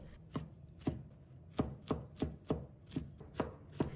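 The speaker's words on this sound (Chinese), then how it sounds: "把它放到案板上，然后用刀给它切碎，把它切成末" A knife finely chops vegetables on a cutting board, about ten crisp, evenly paced strikes landing close up with no talking.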